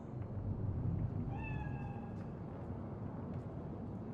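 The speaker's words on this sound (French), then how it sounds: "Tu le vois? Le chat. Il est mignon." A cat meows in the Cyberpunk 2077 video game, one drawn-out, slightly falling meow rising clearly over a steady low ambient rumble of city background noise, with no talking.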